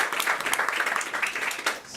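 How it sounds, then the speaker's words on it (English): An audience at a temple celebration claps for a guest, a brief, moderately loud round of applause with scattered individual claps. "Let's give a round of applause for our guest."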